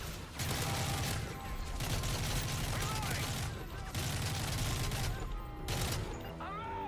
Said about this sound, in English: Shot a guy's brains out